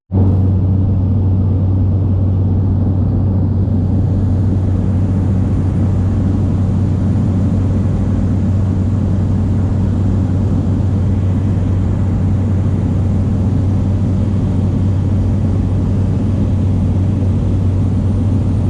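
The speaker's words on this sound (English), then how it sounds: "We are flying into Kalaupapa right now, and just following the coastline here." Small propeller plane in steady flight along the coastline toward Kalaupapa, Hawaii, its loud continuous engine drone filling the cabin without a break.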